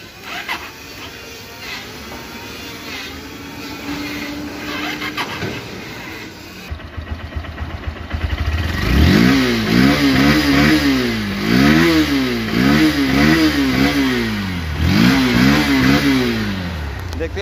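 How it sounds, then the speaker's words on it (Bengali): A used Honda CB Hornet 160cc motorcycle, driven about 6,640 km and in fresh condition, starts after a quiet stretch, then idles and revs repeatedly in loud, close, rising-and-falling bursts with no talk over it. "এখন দেখো বাইকটির সাউন্ড এবং পারফরমেন্স।"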